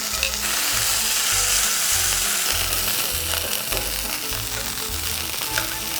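Cod fillet searing in a hot pan, a loud, steady sizzle and splatter with rhythmic low thumps running underneath throughout.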